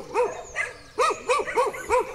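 A fierce guard dog on a residential street corner barks repeatedly in Flórida Paulista, Brazil, giving five sharp, loud barks in an uneven rhythm over about two seconds.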